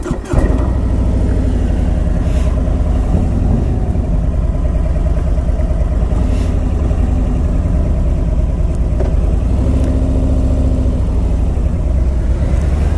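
A 2018 Harley-Davidson Street Glide with a 107 cubic inch engine rumbles loudly and steadily while being ridden, a deep continuous engine drone with slight shifts in pitch and no speech over it.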